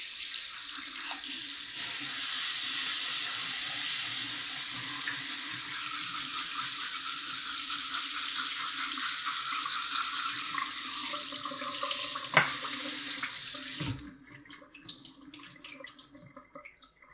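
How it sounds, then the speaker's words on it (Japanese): Steady tap water streams into a sink while blood is rinsed from a cutlassfish, a continuous hiss that stops near the end and leaves faint handling clatter. "血合いを洗い流していきます"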